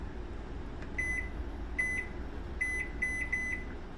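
A kitchen timer beeps in short steady tones, first singly and then in a quick run of several, over a low continuous hum in a kitchen.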